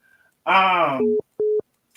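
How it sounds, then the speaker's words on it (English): A telephone rings during a talk show call, heard as two short, clean electronic tone pulses following a loud voiced sound, near and distinct against otherwise quiet background. "Oh shit, honey, the phone ringing, honey. I gotta click over that phone ring, honey."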